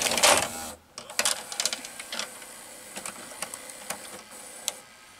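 An RCA VR335 VCR runs its tape mechanism after the loading motor was refitted, giving a steady mechanical whir broken by a loud initial rush and a series of small clicks and ticks.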